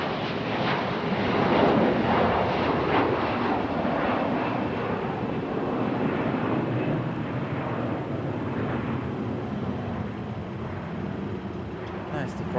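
A Bombardier CRJ regional jet departs Raleigh-Durham International Airport, its engine roar loud and sustained across the whole stretch, with a broad rumbling wash that slowly eases toward the end.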